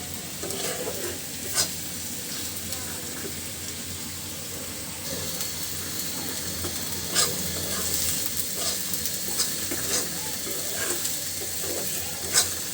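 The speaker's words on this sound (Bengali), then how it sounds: "আমার কিন্তু পেঁয়াজ ভাজিটা হয়ে গেছে," Onions sizzle steadily in a hot pan while being fried lightly for a sesame or eggplant bharta, with occasional stirring scrapes and clinks over a constant hiss.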